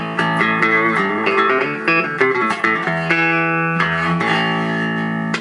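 Clean, undistorted notes from a 34-inch-scale bass on a doubleneck box guitar and bass, played in a quick run, steady and upfront, with a round tone and no voices.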